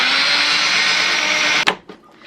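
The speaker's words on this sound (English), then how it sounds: "I want to get this blended up really good." Countertop blender running steadily at full speed, mixing cold coconut milk, water and agar powder, a loud continuous whir that cuts off abruptly near the end, followed by a few faint clunks.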